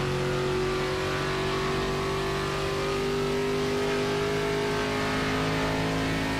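A race car engine from the IROC racing game at Charlotte drones steadily for the whole stretch, its pitch holding close to even with only a slight drift, loud and continuous with no voices.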